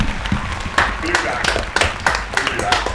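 Studio audience clapping and cheering at the opening of a live podcast's 2024 Spooky Special, with bursts of applause mixed under voices throughout.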